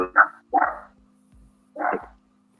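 A dog barks three times at close range, each a short, sharp bark with brief pauses between, and no other sound in the background.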